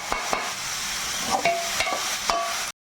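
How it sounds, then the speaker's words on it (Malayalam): Beetroot stir-fry being stirred in a pan, with a spoon scraping and tapping the metal several times over a steady sizzle, close by and without speech. "നന്നായിട്ടൊന്ന് ഇളക്കി കൊടുത്തിട്ട് 2 മിനിറ്റ് നമ്മളൊന്ന് മൂടി വയ്ക്കുക കേട്ടോ"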